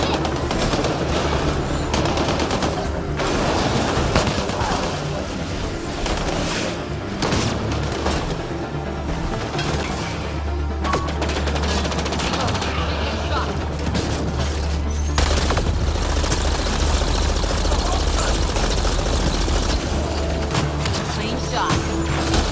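Gunfire in a Mass Effect Andromeda combat scene, a dense, continuous barrage of shots and booms over a deep rumbling low end, with brief voice callouts mixed in.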